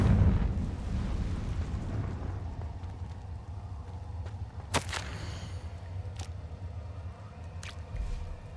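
Confringo blasting spell from Hogwarts Legacy bursts once as a sharp crack with a brief blast, followed by a couple of fainter snaps over a rumbling game backdrop.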